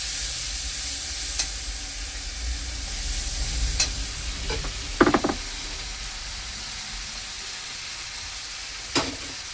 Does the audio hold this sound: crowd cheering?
no